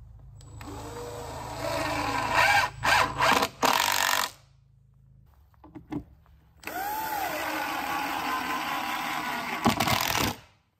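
A power drill drives screws into deck boards on a workshop mezzanine, whirring up in several loud, close bursts of varying length, separated by quiet gaps and clunks of handling.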